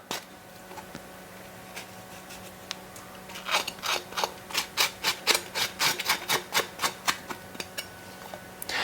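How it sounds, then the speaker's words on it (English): A spoon scraping gel out of a plant leaf for a smoothie, heard as a run of quick, rhythmic rasping strokes, close and fairly quiet, after a brief near-silent stretch. "I'm just scraping it, getting all of it out."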